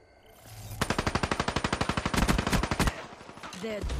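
Automatic weapon fire in Call of Duty Black Ops 3 multiplayer, a rapid sustained burst of roughly two dozen evenly spaced shots lasting about two seconds, fairly quiet in the mix.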